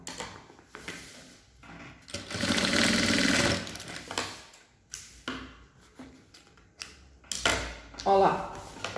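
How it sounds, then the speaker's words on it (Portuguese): A sewing machine runs a short stitching burst on a pouch made from a milk carton, then gives way to handling noises and someone speaking Portuguese nearby. "Então eu venho aqui, costuro uns 3 centímetros mais ou menos de cada lado."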